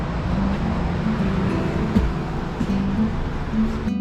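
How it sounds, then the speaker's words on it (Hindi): Cars and traffic roll past on a street in Luxembourg, a steady close roadway rumble with passing engines throughout and no talk. "यहाँ देखो गाड़ियाँ जा रही हैं।"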